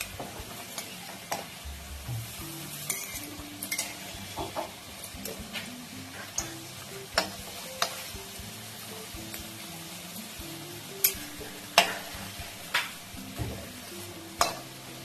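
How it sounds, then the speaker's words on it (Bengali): Food fries in hot white oil in a home kitchen, a faint steady sizzle with scattered clicks and taps of a utensil turning the pieces. "তেল গরম হয়ে গেছে, এবার আমি ভেজে নেব"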